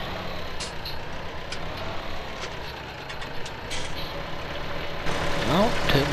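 A 114-horsepower tractor engine in a video game drones steadily and moderately loud, then swells and rises in pitch toward the end as it pulls away.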